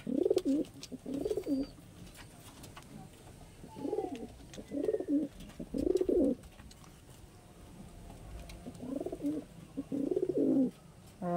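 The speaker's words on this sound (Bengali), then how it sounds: "বন্ধুরা কত বিগ সাইজ পায়রা, বুঝতেই পারছো কি সাইজের পায়রা আছে" Several bouts of deep cooing from large pigeons of a high-flying breed, repeating in short clustered phrases with pauses between, close and moderately loud over a faint outdoor background.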